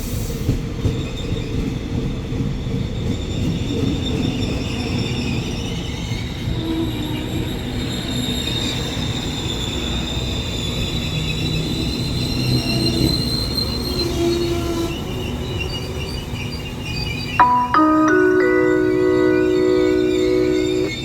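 Special express train 31, the Thaksinarat, rolls into Ban Pong station with a sustained rumble of wheels and carriages, metallic wheel squeals rising throughout, and a sharp tonal squeal near the end as it brakes, loud and close.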